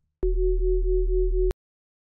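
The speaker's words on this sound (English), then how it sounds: "Then we're going to boost this sine wave 3 octaves and 3 semitones up." A pure, steady sine wave tone from an oscillator in the Serum synthesizer, held at a constant low-mid pitch for about a second and a quarter, starting and stopping abruptly with silence on either side.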